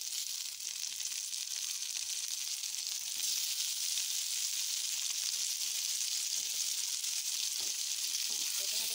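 Tomatoes frying in a pan with onion and chili, a steady close sizzle and crackle running unbroken throughout, with no talking over it.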